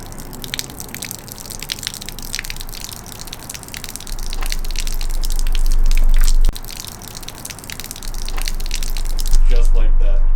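A drink is poured out onto the ground outdoors, a loud, close splashing gush that swells in two heavier surges against a noisy background.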